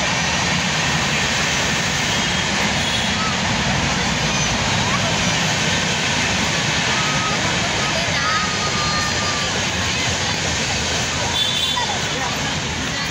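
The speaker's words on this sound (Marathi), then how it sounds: "ट्रेनचा आवाज आहे हा, कारण बाजूलाच आहे ट्रेन" A steady, loud broadband rumble of a train passing on the tracks right beside a Ganpati temple garden in Dombivli East fills the whole stretch, continuous and close, with no breaks.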